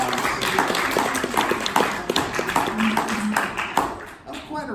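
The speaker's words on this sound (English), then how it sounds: "Let's give him another round of applause." Dense, steady applause from an audience, many overlapping hand claps continuing throughout.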